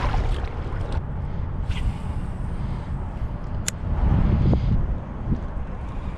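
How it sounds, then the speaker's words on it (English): Strong wind rushes and buffets the microphone on a small lake from a kayak, a dense steady roar that swells louder near the end, with faint splashing underneath. "all of a sudden it got really, really windy"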